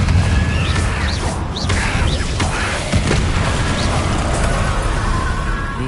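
The Confringo blasting spell from Hogwarts Legacy goes off in a loud, booming burst with crackling debris and whooshes, set against a dense, busy game soundscape.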